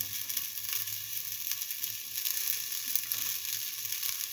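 Shallots frying in a pan give a steady, even sizzle with light crackle throughout, close and alone with no voices.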